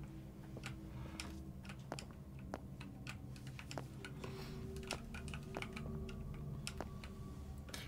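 Keyboard keys clicking and clacking in a steady, irregular patter of sharp close taps over a low background hum, with no voices.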